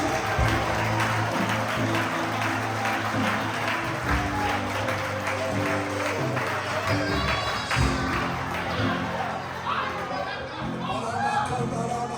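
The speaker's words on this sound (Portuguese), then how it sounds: "Aplaude mais forte." A church congregation applauds loudly and steadily throughout, a dense wash of clapping mixed with crowd voices and a preacher's voice over the top, all fairly close and continuous.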